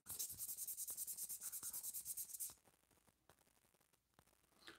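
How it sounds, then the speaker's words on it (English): Etched knife steel being buffed with light sandpaper, a fast rhythmic scratchy rubbing of about a dozen quick strokes that then stops, leaving faint handling noise and a few small taps. "I would probably check the degree of etch on it by buffing it with a light sandpaper"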